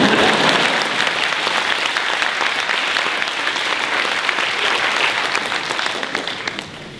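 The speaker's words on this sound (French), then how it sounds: "Et vous pouvez applaudir." Audience applause at a French speech: loud, dense clapping from a large crowd, sustained evenly for several seconds and easing slightly toward the end, with no speech over it.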